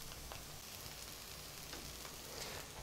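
Onions frying in a pan with Dijon mustard, salt and pepper for frankfurter and sauerkraut baguettes, giving a steady, close crackling sizzle with no talking.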